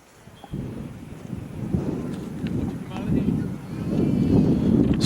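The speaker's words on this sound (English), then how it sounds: "As again that wind picks up." A strong gust of wind sweeps across an outdoor youth baseball playoff game, a rough low rumble of buffeting against the microphone that builds and stays heavy, with a commentator talking over it.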